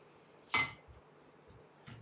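A spoon scrapes and clinks against a bowl while mixing brown sugar Basque burnt cheesecake batter, one sharp close tap followed by softer, quieter knocks and scrapes.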